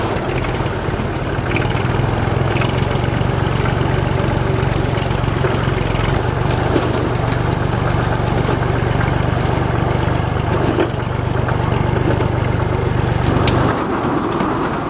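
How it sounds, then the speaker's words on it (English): A small farm tractor with a synchromesh gearbox runs at a steady, loud idle close by. A low engine drone holds throughout with a slight shift near the end and no talking. "We'll get this super tractor on the go."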